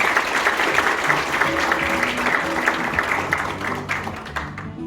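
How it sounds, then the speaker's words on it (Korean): Audience applause at a financial workers' union regular delegates' convention welcomes the union chairman to the podium, a steady dense clapping from a sizeable crowd with faint hum beneath, tapering slightly near the end. "큰 박수로 맞으시기 바랍니다"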